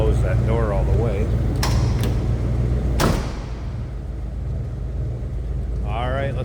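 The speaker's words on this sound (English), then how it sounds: "Guess I could close that door all the way." The door of a 1978 Ford F-150 truck swings shut with a sharp metallic slam near the middle. A couple of lighter knocks come before it, and someone speaks at the start and end.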